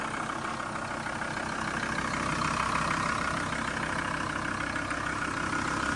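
A 2004 Volkswagen LT46 van, a 4.6-tonne former police mobile office, idles from a cold start in an even, unbroken rumble that stays steady throughout with no one speaking.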